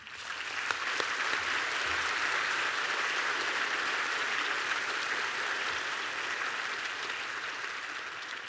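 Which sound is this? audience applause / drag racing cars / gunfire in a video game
audience applause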